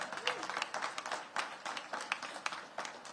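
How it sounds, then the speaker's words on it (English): Faint, scattered crowd applause with quick overlapping claps rises at an outdoor back-to-school event for kids, lasting a few seconds at a distance. "Give them a round of applause"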